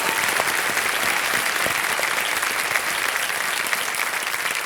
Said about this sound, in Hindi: एक बार फिर आपका तालियों के साथ इनका हम स्वागत करते हैं